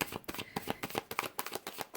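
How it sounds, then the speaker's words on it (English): A deck of oracle cards being shuffled by hand, giving quick papery riffles and flutters in a steady run of bursts, close and fairly soft, with no voices. "I'm going to be shuffling on camera so I can get the messages as they come out"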